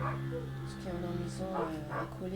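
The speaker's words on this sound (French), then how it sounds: "Bon, désolé si vous entendez un chien, c'est le chien de mon voisin." A neighbour's dog, one of two let outside on a sunny day, gives a few short barks that sit in the background under steady, close talking from a person nearby.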